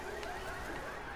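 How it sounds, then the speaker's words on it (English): A car alarm blares continuously in the video game Left 4 Dead, a steady, loud electronic tone with shifting pitch sounding throughout without pause. "That's the alarm car."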